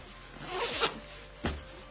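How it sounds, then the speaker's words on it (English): Compression zipper being pulled closed around an Eagle Creek packing cube, a close, quiet rasping run followed by a second short tug, alone without talk. "you can now use that compression zipper"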